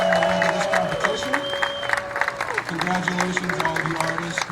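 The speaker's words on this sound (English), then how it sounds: "Let's give a one big awesome round of applause from all of the people that made it in the final round of this competition." Audience applause and some cheering for art competition finalists, steady clapping filling the room with tonal music or sustained notes running underneath throughout.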